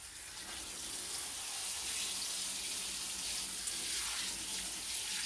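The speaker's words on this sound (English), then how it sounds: "And then we'll just give it a watering." A potted gooseberry bush is watered: a steady, soft, broadband gush of running water is heard close by throughout, without speech.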